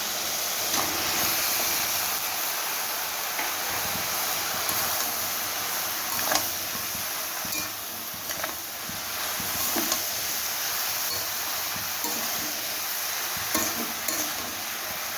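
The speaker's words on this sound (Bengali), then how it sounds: "এবারে আমি লাউটাকে দিয়ে দেবো" Chopped bottle gourd frying in a pan, with a steady hiss and sizzle of cooking and repeated scraping clinks of a spatula stirring, fairly close and continuous.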